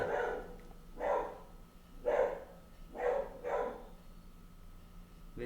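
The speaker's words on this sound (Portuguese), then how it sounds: "Ver se ela dá uma parada de latir aqui." A dog barks five times in a rhythmic series, fairly close and loud, indoors during a math lesson.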